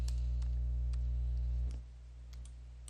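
A few sharp, isolated clicks from a mouse or keyboard sound over a steady electrical hum that drops away partway through.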